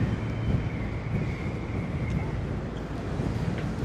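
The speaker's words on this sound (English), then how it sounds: "You can really hear the wind whipping through the plaza here." Strong, steady wind roars through an open plaza in Midtown New York City and buffets the microphone, a constant low rumble with gusty bursts and no clear pauses.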